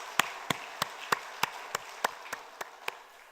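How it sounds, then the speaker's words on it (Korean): A church congregation claps in slow unison during a Sunday service, about ten sharp, evenly spaced hand claps ringing out in a steady rhythm in a quiet hall. "박수로 축복하겠습니다."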